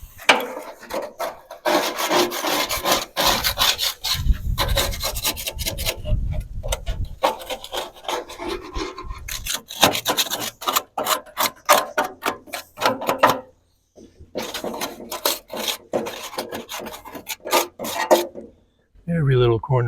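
A plastic scraper cleans inside a Weber Genesis E330 gas BBQ grill. Close, rhythmic scraping and rasping strokes come in quick runs with brief pauses, and a voice is occasionally heard.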